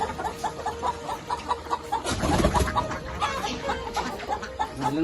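Backyard chickens cluck in a series of short, repeated calls at moderate loudness, with a louder burst of activity near the middle.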